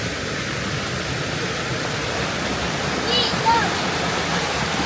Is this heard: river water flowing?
yes